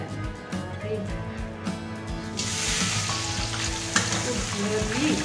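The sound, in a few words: shrimp frying in salted egg in a hot pan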